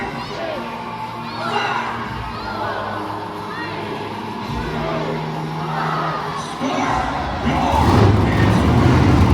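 A large crowd at a monster truck show in Edmonton roars and cheers throughout, with shouts and whoops that swell louder toward the end, while an announcer's voice counts over the din.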